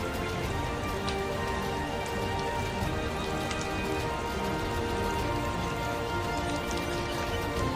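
Steady rain falls and patters on a hard surface, a dense, even hiss of drops with no voices, continuous throughout.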